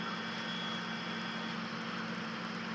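Steady drone of a helicopter in flight near Hayward, California, heard from inside the cabin as a continuous loud engine and rotor hum with a constant low tone, no speech.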